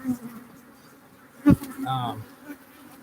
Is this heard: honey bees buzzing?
yes